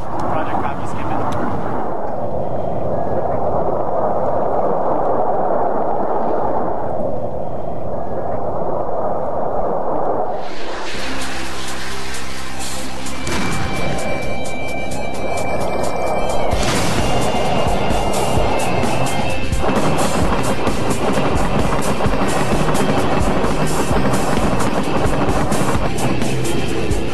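Sensor Fuzed Weapon cluster bomb submunitions burst over a battlefield, a loud crackling cascade of many rapid explosions that erupts partway through after a steady aircraft-like roar, with radio talk over it.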